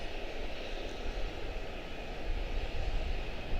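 A Boeing 737 airliner roars continuously at Charlotte-Douglas International Airport, a steady broadband engine rumble heard from a distance outdoors with no voices.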